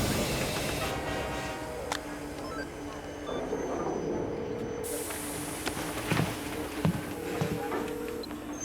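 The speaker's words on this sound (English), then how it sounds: "The train has stopped." A train rolls along steadily, with a low rumble and occasional clacks and bumps building toward the end, heard inside a tense drama scene.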